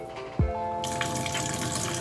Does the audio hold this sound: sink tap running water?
yes